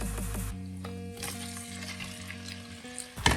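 Shrimp frying in a pan with a steady sizzle and occasional stirring scrapes, a brief loud burst of hissing at the start as they hit the oil and a louder clatter near the end.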